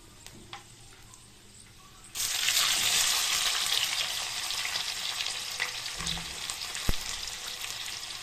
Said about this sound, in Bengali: এবারটা পেঁয়াজটা দিয়ে দেবো